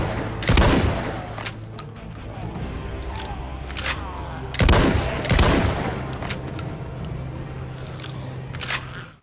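Shotgun blasts fired at walkers in the zombie game The Walking Dead: Survival Instinct, two sharp loud reports with echoing tails and smaller impact sounds between, and a voice talking in between.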